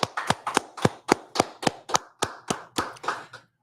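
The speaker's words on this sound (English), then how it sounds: "Let's clap it up." Clapping at an evening law and history class gathering: about a dozen sharp, evenly spaced claps, fairly close and loud, sounding like one or a few people rather than a full crowd, with no talk over them.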